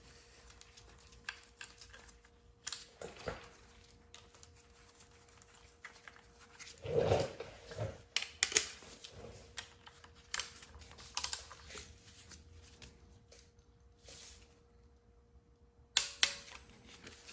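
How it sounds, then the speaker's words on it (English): A torque wrench ratchets and clicks while engine bolts on a 2JZ engine are tightened during a clean and reseal build. The sharp clicks come sparsely and irregularly and are faint against a quiet background, with no talking. "I got my torque wrench. I'm gonna go ahead and start tying these up."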